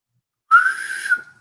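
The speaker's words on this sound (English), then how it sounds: "Can you whistle?" Someone whistles a single sustained, slightly wavering note for under a second, close and clear, with silence before it.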